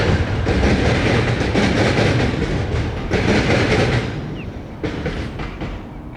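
A freight train rumbles past close by, heavy and loud, with rhythmic clickety-clack from the wheels over the rails before the noise gradually thins out, near a river crossing.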